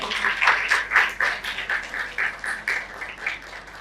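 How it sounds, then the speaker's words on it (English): Audience applause at an academic lecture, a moderate crowd clapping in an uneven patter with some voices audible underneath, close and steady for a few seconds. "So a big round of applause for sir."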